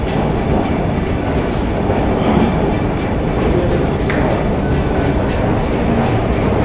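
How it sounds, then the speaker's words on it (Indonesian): A Singapore MRT metro train pulls into the station with a loud, continuous rumble and rushing roar. The rail noise is steady and dense throughout, with faint clicks on top. "ini MRT-nya datang."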